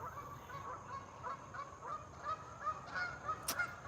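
Farm ducks honking in a rapid, irregular series of nasal calls, moderately distant over a steady background hiss, with no talking.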